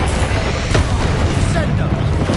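Confringo and Bombarda spell blasts from Hogwarts Legacy rumble as booming impacts layered with swirling magical whooshes, loud and continuous, mixed with game sound effects.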